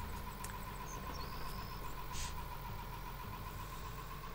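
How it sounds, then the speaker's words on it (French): Steady low engine drone of a tractor in the farming simulation game Farm Manager 21, a continuous mid-level rumble with a faint tonal hum and no talk. "là, on voit un tracteur qui se barre à nouveau"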